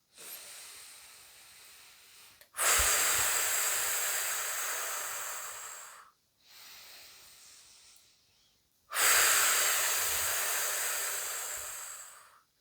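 Slow, deep breaths during a relaxation sophrology exercise: a soft inhale followed by two long, loud airy exhales blown out close to the microphone, separated by brief pauses, no talking.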